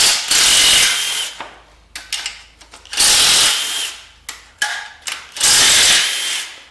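Bolts being removed from a 5.3 LS engine during a teardown with a ratcheting power tool: several loud, close bursts of rapid clicking and whirring, separated by short pauses and lighter ratchet clicks.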